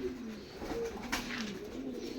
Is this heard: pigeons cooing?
yes